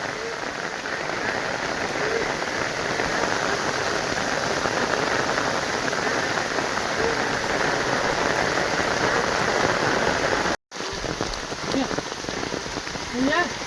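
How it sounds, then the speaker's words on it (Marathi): Heavy night rain pours steadily on a surface, a dense continuous hiss, with faint frog croaks mixed in and a brief cut near the end. "परत पाऊस लागलाय आणि बेडकांचा आवाज पण आहे"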